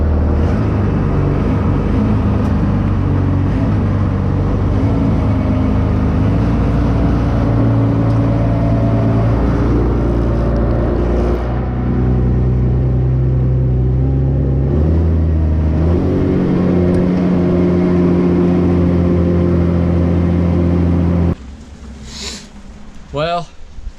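A heavy engine drones steadily from a Cummins diesel-swapped monster truck as it drives forward, a loud low rumble with shifting pitch that cuts out near the end, leaving quieter noises.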